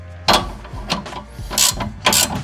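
A ratchet tightens a strut crash bolt nut on a GR Corolla, its clicking pawl heard up close in uneven bursts of short strokes, several louder ratcheting pulls standing out.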